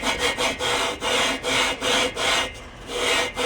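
Cylinder head being lapped against a cylinder from a 1967 VW engine, a rhythmic gritty scraping rub in steady back-and-forth strokes, about three per second, close and fairly loud, with no voices.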